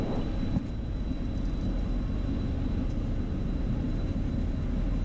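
Engines of a Phenom 300 private jet roar steadily through the takeoff roll, a continuous low rumble heard from inside the cockpit, even and unbroken with no talk.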